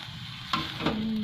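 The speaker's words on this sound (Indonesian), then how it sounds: "Diaduk-aduk. Aduk digoreng-goreng." Water spinach sizzles as it is stir-fried in a hot pan with seasoning, a steady frying hiss broken by two quick scraping stirs over about a second.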